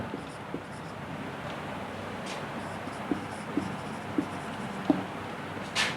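Chalk or marker writing on a classroom board during a grammar lesson, a soft scratchy stroke texture with several faint taps, low under steady room noise and no talk.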